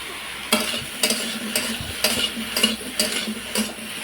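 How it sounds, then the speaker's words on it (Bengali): Ol saak (elephant foot yam greens) being stirred in a pan, with regular scraping strokes about every half second over a soft continuous sizzle, close and fairly loud. "ওল শাকটা এইভাবে নাড়াচাড়া করে নেব"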